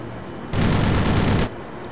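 Rapid machine-gun burst in a video game air combat battle, a single loud run of evenly spaced shots lasting about one second, standing out sharply against a steady background engine drone.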